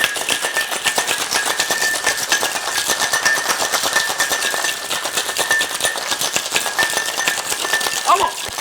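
A sealed cocktail shaker mixing a passion fruit caipiroska rattles close up in a fast, even rhythm, sharp contents clattering continuously for over eight seconds.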